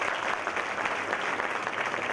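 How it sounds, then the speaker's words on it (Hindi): An audience at an indoor training session applauds with continuous, dense clapping that stays steady for a couple of seconds, moderately loud and without any talk. "आज जो डॉक्टर साहब ने ट्रेनिंग लिया उसके लिए जोरदार फिर से ताली होगी"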